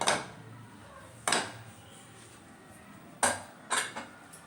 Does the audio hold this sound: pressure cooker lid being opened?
yes